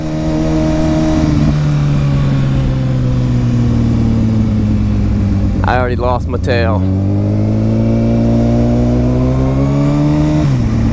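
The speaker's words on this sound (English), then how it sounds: "Every time you hear this RPM just start spiking, you know exactly what happened" A high-revving 1000cc sport motorcycle engine drones loudly and steadily, briefly interrupted by a short spoken phrase, then the engine pitch climbs again as it revs.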